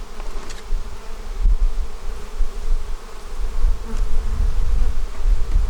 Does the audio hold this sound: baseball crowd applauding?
no